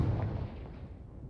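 Confringo fire spell in Hogwarts Legacy goes off as one muffled, booming blast that rumbles low and fades over about a second, with no voices.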